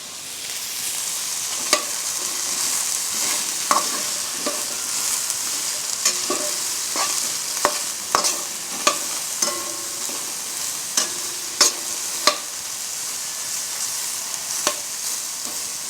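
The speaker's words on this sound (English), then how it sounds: "We want to stir and fry them." Vegetables sizzle steadily in a hot pan outdoors, cooked from food storage supplies, with a continuous frying hiss punctuated by repeated sharp clicks and scrapes of stirring.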